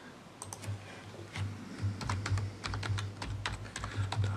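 Typing on a computer keyboard while entering text in CAD software, a steady run of light clicking keystrokes in quick irregular bursts, close and alone over a low hum.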